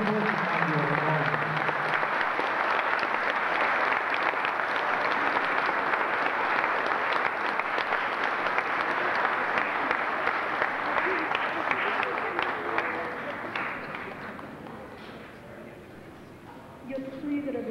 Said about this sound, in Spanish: Le damos un aplauso a los nuevos mayordomos.